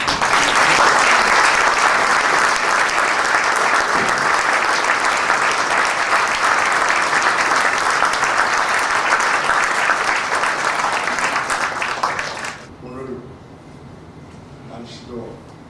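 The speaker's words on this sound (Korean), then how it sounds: "힘찬 박수를 부탁드립니다" Strong applause from guests greets a departing university president at his farewell ceremony, a loud, dense clapping that runs for about twelve seconds before quickly tapering off into a quiet hall with faint rustling.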